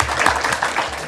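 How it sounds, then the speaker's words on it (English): A county commission meeting audience gives a brief round of applause: a short burst of steady, moderately loud clapping from a roomful of people. "Let's give her a round of applause anyway."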